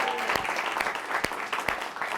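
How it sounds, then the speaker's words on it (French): Studio audience applauding and cheering for a performer on a variety show, a fairly distant, steady wash of clapping with a few sharper individual claps standing out. "Et je voudrais qu'on donne une bonne main d'applaudissements et faire du bruit pour David Jalbert!"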